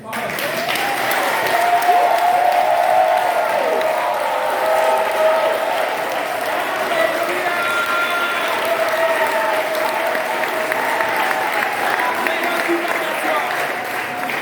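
A church congregation applauding at length, steady sustained clapping from a large crowd with scattered cheers and voices mixed in, loud and close throughout.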